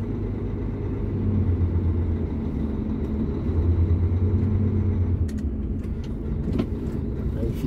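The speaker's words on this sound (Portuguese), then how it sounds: "Vou dar uma rezinha aqui" A heavy truck's diesel engine idles and rumbles low and close as it eases backward at a loading-yard wash bay, with steady drone throughout and a few light clicks near the end.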